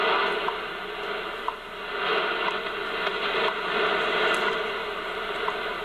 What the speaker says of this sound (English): this is 5 megahertz, and you can kind of hear the propagation